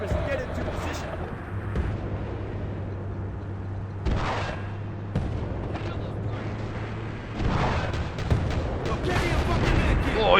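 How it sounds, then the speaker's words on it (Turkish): A rocket slams into the player's vehicle in Bustafield 2, a game mixing San Andreas and Battlefield 2, with loud booming blasts and rumbling explosions amid gunfire as someone talks and laughs over it. "Roketi yedik, direkt de bir tarafımıza girdi."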